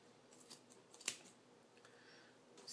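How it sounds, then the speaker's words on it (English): Scissors snipping through yarn loops to make a pom-pom, with a few faint, quick cuts and one clearer crisp snip near the middle, close and very quiet, with no talking. "you're going to go ahead and cut through all of the little loops"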